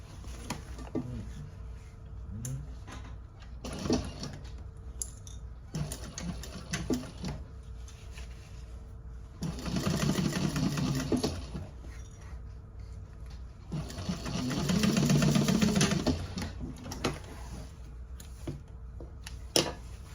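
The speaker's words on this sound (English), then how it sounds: "I'm going to sew that together." A sewing machine stitching a handbag, with two longer buzzing runs of rapid stitching between quieter clicks and handling noises, close and fairly soft.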